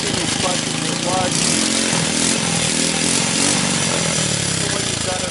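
A GY6 pit bike engine revving up and dropping back, a loud raspy buzzing drone held steady throughout, with a voice speaking over it.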